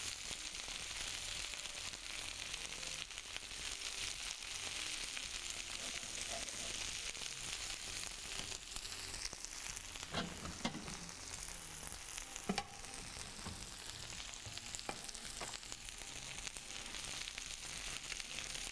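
Chicken liver fries on a high flame with a constant dense sizzle, close and even, punctuated now and then by soft clicks and scrapes of stirring.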